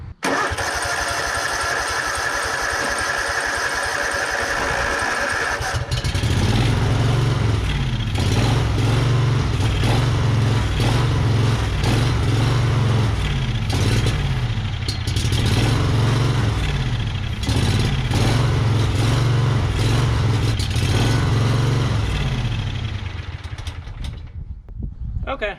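Exmark Yazoo Kees zero-turn mower with fuel delivery trouble cranks with a starter whir, then catches and runs as a loud, steady, low engine rumble with slight rhythmic pulsing before cutting off, with someone talking at points.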